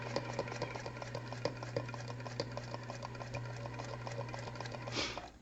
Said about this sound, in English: now I'm going to stitch between those 2 straight pins, being careful not to stitch into the seam allowance